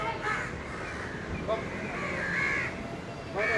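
Crows cawing outdoors at a seaside temple town in Murudeshwar, several harsh calls standing out over a constant background of ambient noise and distant chatter.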